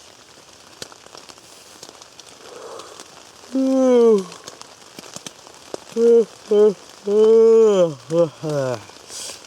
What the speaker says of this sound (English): it is pouring the rain out